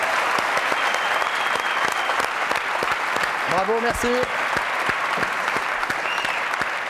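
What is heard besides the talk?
audience applause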